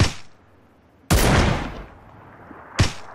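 Gunfire in PlayerUnknown's Battlegrounds: a loud sharp burst of shots cracks in, trails off into a ringing decay, and another shot follows near the end, with no talking.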